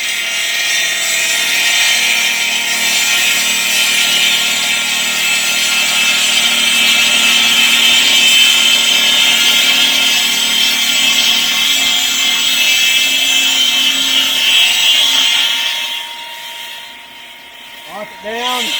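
A Husqvarna MS 360 wet saw plunge cuts into stone tile, giving a loud, steady whine that holds for about fifteen seconds and then winds down.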